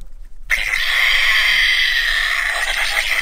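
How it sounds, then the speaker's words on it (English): Electronic sound effect from a Rampage Ralph toy figure from the video game toy line: a bright, steady, slightly harsh burst that starts abruptly and holds for about three seconds, close and fairly loud. "That's Ralph's one sound."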